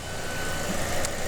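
Diesel engine of an Elgrand E50 minivan being cranked while the fuel pump runs, a steady loud mechanical whir with a faint beep partway through.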